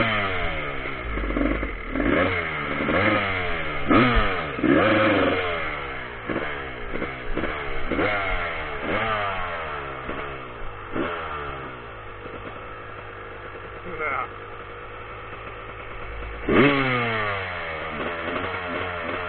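An enduro motorcycle engine revs repeatedly, its pitch climbing and falling in rapid bursts, loud and close throughout with occasional clatter and no speech.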